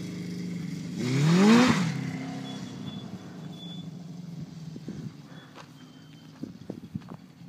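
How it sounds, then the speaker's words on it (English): A 1978 Honda CB750 motorcycle with a 4-into-1 exhaust rides past, its engine rising to a loud revving surge that quickly fades into the distance, followed by faint outdoor background with a few small knocks. "that is Wyatt riding my new Honda CB without a clutch"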